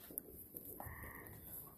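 Frogs croak faintly at night outdoors, a quiet, low chorus with a few soft calls over a hushed background and no talking.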